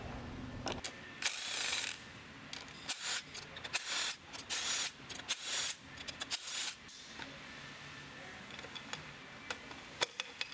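A ratchet works on motorcycle clutch cover bolts during a clutch swap, close rapid clicking bursts repeating several times, then lighter scattered ticks at the end.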